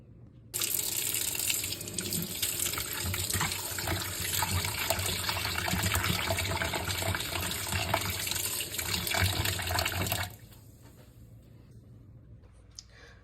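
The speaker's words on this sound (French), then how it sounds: "je vais juste rincer le poulet" A tap runs steadily for about ten seconds, water splashing into a sink as chicken wings are rinsed, then cuts off, leaving a faint room hush.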